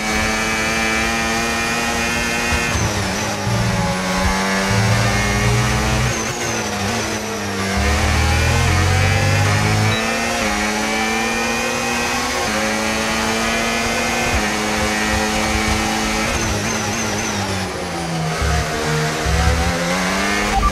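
A racing car in a video game revs hard under an overtake boost, its engine tone climbing and falling in continuous sweeps, loud and close with no talk over it.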